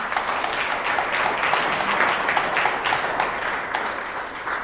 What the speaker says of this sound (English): you really need a good round of applause